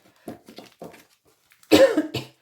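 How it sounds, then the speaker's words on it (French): A person coughs several times, short dry bursts, then a louder, harsher fit of coughing, close up with no talking. "Excusez-moi, la toux est toujours présente."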